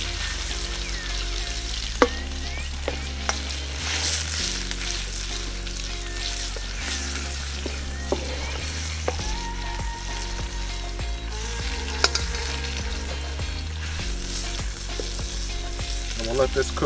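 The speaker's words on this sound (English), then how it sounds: "I'm gonna add our half pound of ground meat. We'll let this brown up." Half a pound of ground meat browns in a hot pan with a steady, loud sizzle throughout. Occasional scrapes and knocks of stirring break through the frying noise, and no one speaks.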